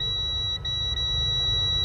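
A multimeter in continuity mode beeps while probing a Poco M3 phone board, a steady high-pitched tone held continuously over low room hum, with brief dips.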